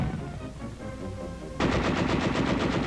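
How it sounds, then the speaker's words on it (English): Sustained machine gun fire covering troops storming a field fortification, starting partway in as a loud, rapid, continuous rattle over a low rumbling background. "Under cover of machine gun fire, the field fortification is stormed."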